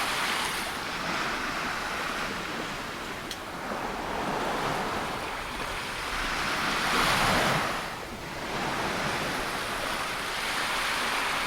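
Sea waves break and wash up on a sandy beach west of Bournemouth, a continuous rushing surf that swells and ebbs every few seconds, mixed with gusty wind buffeting the microphone and no voices.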